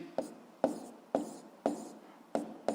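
Chalk or marker strokes on a board during a physics lesson, six sharp scratching bursts at uneven intervals, each fading quickly, close and fairly loud with no talk over them.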